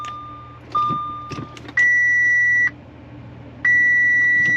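An Audi Q5 chimes as someone tries to start it, with a short beep and then two longer, loud sustained electronic tones separated by a pause, heard alone in a quiet cabin.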